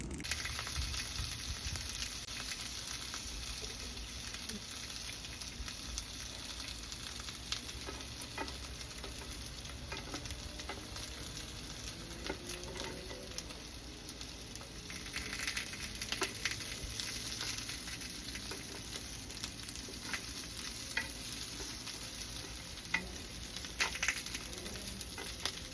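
Garlic and onion sizzle and fry in a pan with a steady crackling hiss, with occasional stirring scrapes and ticks close by throughout.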